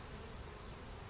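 Honey bees buzz inside an open hive during a June inspection, a dense, steady, close hum filling the whole moment without pause.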